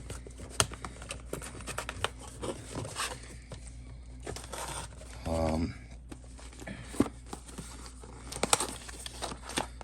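Accessory bag from a Fanttik T1 Max soldering iron kit being unpacked and handled, with close, intermittent crinkling and rustling of plastic and a brief soft thump, no talking.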